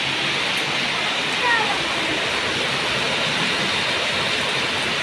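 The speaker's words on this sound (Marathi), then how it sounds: "हे बघा सगळं इथनं पाणी जिन्यावरनं" Heavy rainwater pours down a staircase in a hilly area during a downpour, a steady, loud rushing wash that carries on unbroken from start to finish.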